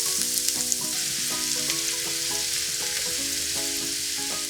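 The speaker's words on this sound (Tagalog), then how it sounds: "Then, maggisa tayo ng sibuyas." Onion sautéing in hot oil in a flat pan: a dense, loud, continuous sizzle with light scraping from stirring throughout.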